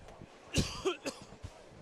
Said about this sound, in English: Apologize, I keep coughing.